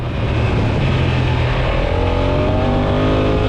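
A Honda NT1100 touring motorcycle engine roars steadily up close and climbs in pitch as it accelerates in sport mode, with heavy rumbling and wind noise throughout.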